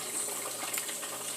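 Water is poured or run from a tap into a pot to cook Haitian djon djon rice in a home kitchen, a steady, soft rushing stream heard close up without talk.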